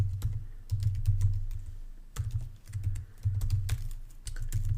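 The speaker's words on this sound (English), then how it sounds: "I'm just going to type in my test email address." Fingers tap out an email address on a computer keyboard, a quick, close run of light key clicks in short bursts with brief pauses between groups, quiet and with no voices.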